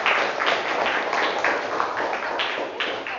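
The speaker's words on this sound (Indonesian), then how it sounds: "Kasih tepuk tangan." A classroom of students claps in short bursts of applause, dense and close, steady for a few seconds without any talking over it.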